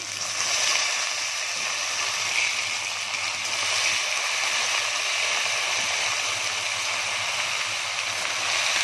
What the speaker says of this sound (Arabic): اسيبها واروح اغسل الرز